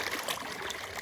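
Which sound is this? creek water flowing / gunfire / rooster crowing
creek water flowing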